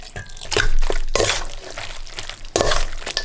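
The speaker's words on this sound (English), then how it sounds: "Add a bit of pasta water to create a creamy sauce." Pasta water is poured into an egg mixture for carbonara, making close, sloshing liquid splashes that come in a few uneven bursts with short pauses between them.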